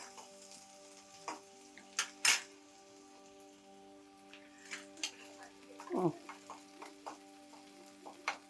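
Seven or eight finely chopped garlic cloves fry in hot oil for baby corn Manchurian, giving a soft, steady sizzle with scattered clicks and stirring scrapes at close range.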